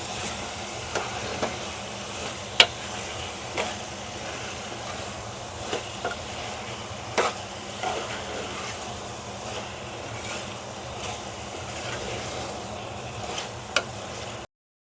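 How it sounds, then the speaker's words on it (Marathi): Prawns stir-fried in a pan for prawn pulao, a soft continuous sizzle with occasional scraping and tapping of a spatula, close and moderate in level with no talking. "ही कोळंबी पण याच्यामध्ये ना पाच ते दहा मिनटं छान अशी परतून परतून घ्यायची"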